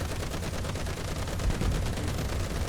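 Rapid machine gun fire in a first-person shooter game, a dense unbroken burst of loud gunshots filling the whole stretch with no talk.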